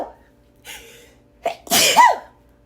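A single loud, close human sneeze with a sharp inhale before the explosive burst, heard alone in a quiet indoor room.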